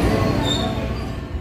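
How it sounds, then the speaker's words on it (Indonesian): A red locomotive hauls a local commuter train into a station platform, its steady low rumble and rolling wheel noise close by, with a faint high metallic squeal from the wheels. "Lokomotif merah menarik kereta api lokal komuter Lendoho masuk jalur 1"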